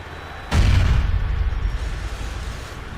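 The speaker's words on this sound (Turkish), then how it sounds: "Bomba patladı." A single heavy bomb explosion in Grand Theft Auto IV booms suddenly, followed by a long rumbling decay that lingers for a couple of seconds.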